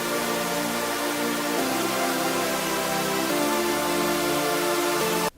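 Layered synth chord stacks in FL Studio, including detuned saw waves, playing together as a thick, bright sustained progression with chord changes every couple of seconds, stopping abruptly at the end.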